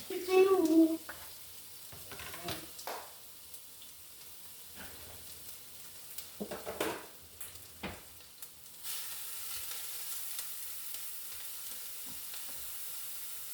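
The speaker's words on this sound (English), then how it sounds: "I'm already gonna start cooking the onion" Onion sizzles in a hot pan with intermittent stirring clatter and utensil knocks, then settles into a steady, louder hiss.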